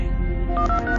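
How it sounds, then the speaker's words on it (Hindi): Telephone dialing tones: a quick run of short keypad beeps rising in pitch, heard over a dense music bed. "सिर्फ एक फोन घुमाने से,"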